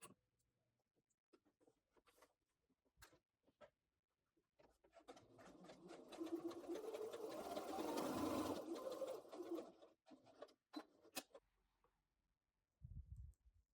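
A sewing machine runs a continuous burst of about four seconds while stitching basting rows on a dress, surrounded by quiet clicks and handling of fabric, ending with a brief voice.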